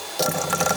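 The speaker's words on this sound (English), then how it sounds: "we're going to screw it back together" A screwdriver driving the screws back into a FrSky radio transmitter case, heard as a brief run of close, quick ratcheting clicks lasting under a second.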